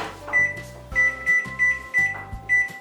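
A convection microwave oven's control panel beeps as its temperature is set to 180 degrees centigrade: a string of about six short, clear electronic beeps at an uneven pace over a low appliance hum.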